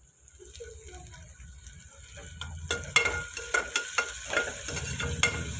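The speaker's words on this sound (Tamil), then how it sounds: "வெங்காயம் நல்லா வதங்கி வரட்டும்" Onions sauté with whole spices in a pan for tomato rice, a soft steady sizzle rising gradually, with a spoon stirring and tapping in irregular strokes, close and quiet.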